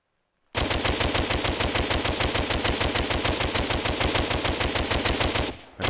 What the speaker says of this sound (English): I should probably keep an eye on the score at the bottom while I'm shooting.